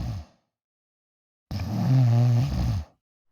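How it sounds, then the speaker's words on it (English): A man snoring in his sleep makes one long, loud, rumbling inhale after a short earlier snore tail, separated by a stretch of silence. "you can sleep through your dad's snoring"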